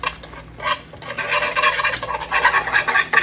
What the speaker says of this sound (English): So I'm just stirring in the mix, bringing it all to a boil